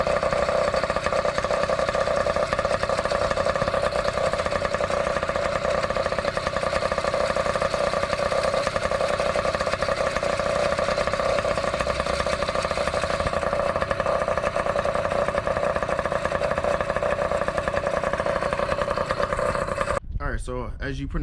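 Moped AM6 engine fitted with a Mikuni TM24 flat-slide carburetor holds a steady, buzzing idle, loud and continuous throughout, ending with a brief blip near the end.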